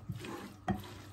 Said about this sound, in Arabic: غادي نكمل التخلاط هذا كما كنشوفوا